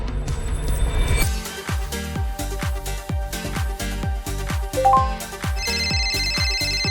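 An incoming video call rings as a phone ringtone, a loud repeating electronic melody with a steady rhythmic pulse of chiming tones that carries through the whole stretch, with no talking over it.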